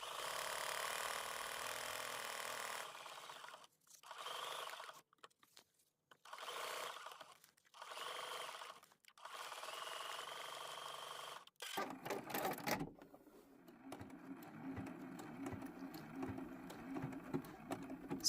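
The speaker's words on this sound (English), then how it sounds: "I'll go ahead and continue my satin stitch on this handle" A sewing machine runs satin stitch on a raw-edge appliqué handle for a quilt block, in a series of steady whirring bursts separated by short pauses, followed by softer handling noises.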